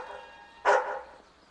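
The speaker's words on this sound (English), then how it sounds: "I know that bark." A single dog bark in a family film set in San Francisco, one sharp close bark over a faint background hum, no talking.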